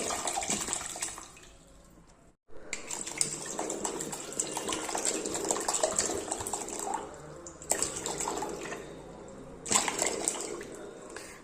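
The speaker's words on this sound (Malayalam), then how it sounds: "അപ്പോൾ അതാ ഞാനിവിടെ ഒന്നര ലിറ്റർ വെള്ളം ഒഴിച്ചു കൊടുക്കുന്നുണ്ട്" One and a half litres of water poured over grapes in a pot for homemade grape wine, a continuous splashing gush that breaks off briefly twice and resumes, close and moderately loud.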